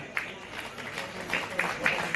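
Scattered, light clapping from a small crowd at a Krishna Janmashtami function in a cow shelter, soft and somewhat distant with irregular claps under faint background voices.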